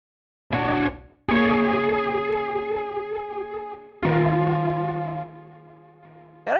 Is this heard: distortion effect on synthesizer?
yes